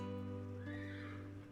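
A horse neighs in the western game Love & Fool's Gold, a clear, close whinny with a wavering tone that rises, then falls away within about a second and a half.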